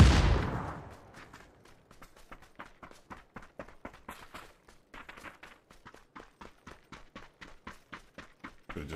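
Assault rifle fire in a first-person shooter game, a loud opening shot followed by a long string of evenly paced, moderately loud single shots ringing out one after another with no talk over them.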